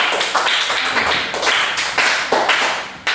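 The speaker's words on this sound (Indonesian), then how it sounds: "Beri tepuk tangan untuk kelompok 2." A class of students claps for a presenting group in a schoolroom, beating out a quick rhythmic pattern of sharp claps in repeated bursts, close and moderately loud, with no voices.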